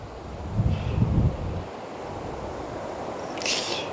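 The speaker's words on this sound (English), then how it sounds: "I really don't want the wind to tip it over" Wind buffets the microphone outdoors during a landscape photography shoot near a tree, a low steady roar with a stronger gust early on and no voices.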